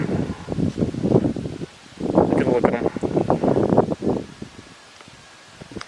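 Gusty wind at Rocky Point in the Pine Barrens buffets the microphone in low rumbling bursts while a person speaks close by.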